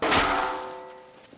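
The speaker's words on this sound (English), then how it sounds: "So he's going to pick up the sledgehammer, okay? And now he's going to hit me." A sledgehammer strike in the survival game Scum lands as one heavy, close thunk with a brief crashing edge, then a ringing tail that fades over about a second.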